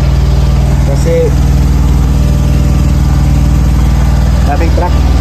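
A Kenworth T880 truck engine idles loudly and steadily nearby, a deep even rumble throughout, with faint brief sounds over it.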